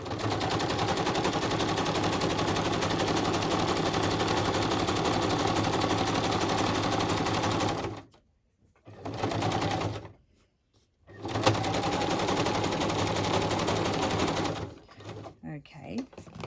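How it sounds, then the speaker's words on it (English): A sewing machine zigzag-stitches fabric for an altered-packaging envelope craft, running in long, loud, steady bursts with two short pauses and a choppy stop-start near the end. "Excuse it if you don't like sewing machines."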